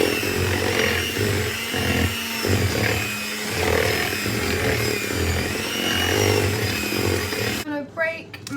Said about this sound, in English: I'm now going to whisk this until mixed